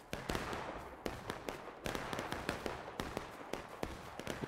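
Reenactors' rifles fire a ragged volley of independent shots during a battle reenactment of a counterattack, with sharp cracks arriving irregularly in quick succession over a steady outdoor background.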